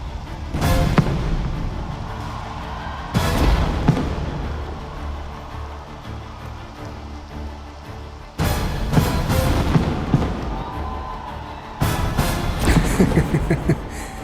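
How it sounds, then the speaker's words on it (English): Pyrotechnic blasts at a live rock concert, three or four loud booming bursts spaced several seconds apart, each with a sharp attack and a long rumbling decay over the crowd and music. "Fireworks."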